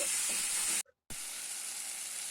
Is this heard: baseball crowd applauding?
no